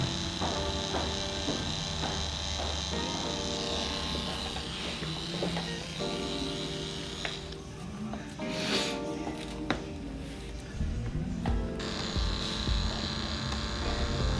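A tattoo machine shades with pure black ink using only the needle tip, giving a steady close electric buzz throughout, faintly varying as it moves, with quiet speech around it.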